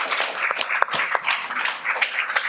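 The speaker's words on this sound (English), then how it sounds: "Let's give them one more round of applause." Audience applause: a dense patter of many hands clapping together, steady and fairly loud, with no talking over it.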